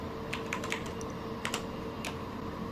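Keys on a computer keyboard are tapped in short, uneven bursts, a handful of crisp close clicks over a quiet room hiss with no voice.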